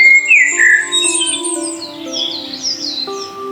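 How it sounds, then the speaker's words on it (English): Cartoon mice squawk in surprise and delight, a burst of high squeaky chirps over a sustained musical background. The sound is loud and close and lasts throughout. "Pipkin and his family squawked in surprise and delight."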